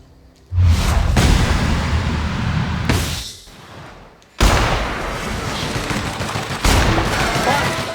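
Bursts of gunfire from the video game The Outer Worlds, loud, dense volleys in three stretches separated by brief lulls, with no speech over them.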